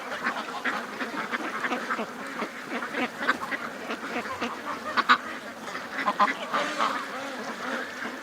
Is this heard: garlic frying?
no